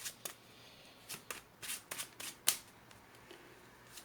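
A deck of Marvel Champions game cards is shuffled by hand in several quick riffling bursts with pauses between them, close and soft, ending in a sharper snap.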